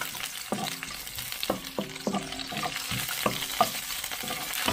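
Lemongrass and ginger sauté in a pan with a soft, steady sizzle, broken by repeated scraping stirs from a utensil at a slow, regular pace, close and fairly quiet.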